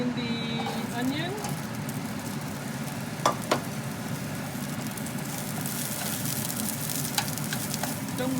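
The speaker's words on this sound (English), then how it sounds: "I am putting in the onion" Chopped onion hits about a tablespoon of hot oil in a pan over medium heat for a chicken curry, giving a steady crackling sizzle with a few utensil clinks and stirring sounds while a voice talks.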